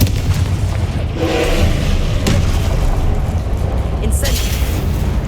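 A Confringo blast spell from Hogwarts Legacy erupts as a loud, dense boom over continuous rumbling game noise, with a sharp burst near the middle and a brighter crackle toward the end.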